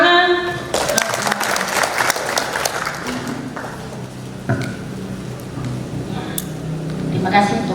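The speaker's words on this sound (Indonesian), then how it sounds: "Tepuk tangan." Applause from an audience at a Sunday school teachers' basic training course in a church hall, a moderately loud patter of clapping that rises, thins and swells again, with voices talking over it.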